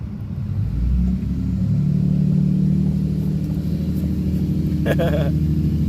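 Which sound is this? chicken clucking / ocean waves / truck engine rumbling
truck engine rumbling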